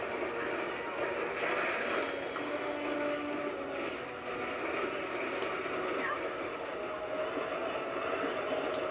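A train rumbles in the Resident Evil 6 video game during a Leon boss fight, a faint, steady low rumble that holds level throughout with no talk over it.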